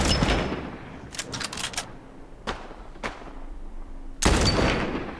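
Gunfire in The Last of Us from a gun with unlimited ammo: a burst of sharp reports, then single loud shots spaced apart and a final heavy blast, with no talk over them.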